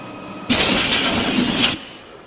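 A final boring pass on the input bore of a New Process 205 gearbox, taken for a 90mm bearing: a loud, steady hiss of cutting that starts abruptly, runs just over a second and stops cleanly.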